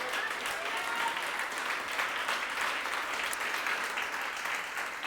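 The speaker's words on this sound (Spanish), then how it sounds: "Dele un aplauso al Señor," Worshippers in a church service applaud together, a thick sustained patter of many hands, steady and fairly close, with no speech over it.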